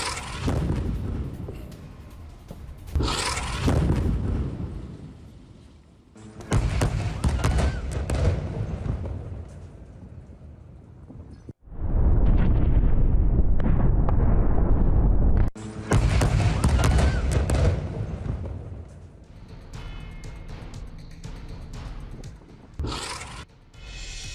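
Missile strikes on Hamas positions in Gaza, with heavy blasts hitting a multi-storey building: a string of loud, broad explosive bursts and rumbling booms, one sustained roaring stretch in the middle, with no voices.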